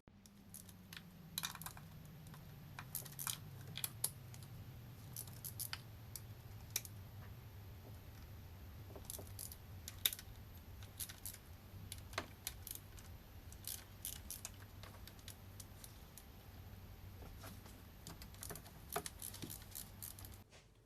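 Rocker cover bolts come out of a BMW 335i N54 engine one after another: faint, scattered metallic clicks and ratchet ticks at close range over a low rumble, with no talk.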